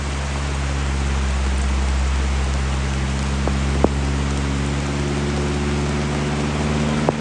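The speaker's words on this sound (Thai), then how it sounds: "ตอนนี้ฝนตกหนักเลยนะฮะ" Heavy rain pours down outdoors in a dense, steady hiss, with a low engine hum running underneath throughout.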